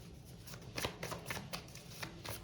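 Tarot cards are shuffled in a quiet room, a run of soft riffling bursts repeating in an uneven rhythm, close and fairly faint, with no talking.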